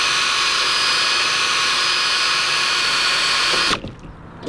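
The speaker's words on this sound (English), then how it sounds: "I'm just gonna go ahead and drill that out real quick." Power drill boring out a rivet on a BMW E30 headliner, a loud steady high-pitched whine running for several seconds before cutting off abruptly, followed by a brief quiet rattle.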